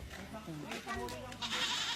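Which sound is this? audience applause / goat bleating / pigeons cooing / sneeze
goat bleating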